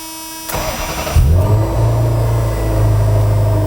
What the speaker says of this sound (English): in my hand here, I have the key that will fire up all 300 of these horses